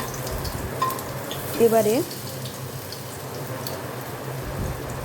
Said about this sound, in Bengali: ঠিক একইভাবে সমস্ত কোপ্তাগুলি আমি লাল লাল করে ভেজে রেখে দেব।